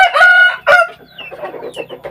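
A rooster on a farm crows at close range, a loud, strained call in two bursts followed by softer trailing notes in the late afternoon.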